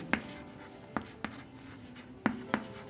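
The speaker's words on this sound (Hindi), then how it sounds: "चलिए हम लिखते हैं" Chalk or marker writing on a board during a Hindi maths lesson: five sharp, separate strokes and taps at an uneven pace, close and fairly quiet, with no talking.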